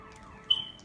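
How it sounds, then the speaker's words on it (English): A phone alarm chirps briefly and faintly, a single short electronic tone rising over quiet room noise. "That's my alarm, excuse me."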